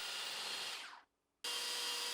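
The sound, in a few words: power tool grinding down wooden dowel ends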